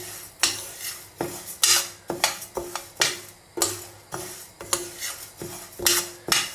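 Spoon scraping and clinking against a pan while dal (bele) is stirred continuously for a vegan chatni pudi, a steady run of about a dozen close, sharp metallic strokes with no talk.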